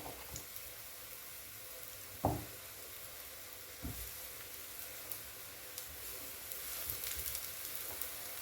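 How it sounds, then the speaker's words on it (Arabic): Tilapia fish grilling in a pan with just a little oil, giving a faint steady sizzle throughout with a couple of brief clanks partway through. "انا هشويها كده بحبة زيت صغيرين"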